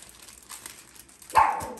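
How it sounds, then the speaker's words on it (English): A Chihuahua lets out a single sharp, nearby bark near the end, after a stretch of quiet room noise and faint rustling. "Should I show them the dog that's barking so they know what the sound is?"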